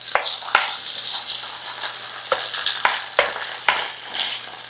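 A spoon stirs cherry tomatoes, green olives and capers through an eggplant caponata in one pan, with a series of distinct scraping knocks over a bright, steady sizzle.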